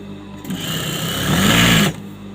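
A sewing machine stitches lining onto the neck of a churidar top, a loud, steady whirring run lasting over a second that swells slightly before stopping abruptly, with quieter mechanical hum around it.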